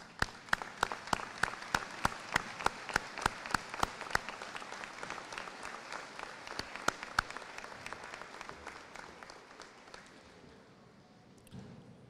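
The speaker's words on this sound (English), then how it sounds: "give you a heartfelt and grateful round of applause" A graduation commencement crowd applauds steadily with sharp individual claps standing out, the clapping gradually thinning and fading toward the end.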